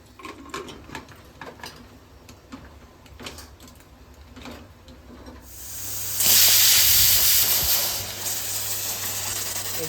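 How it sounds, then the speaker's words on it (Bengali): A pressure cooker on the stove starts to vent partway through, building into a loud, sustained, hissing steam whistle that holds steady to the end. "যে সিটি মারলো এরকম সিটি তিন চারটে মেরে আমি নামিয়ে নেব"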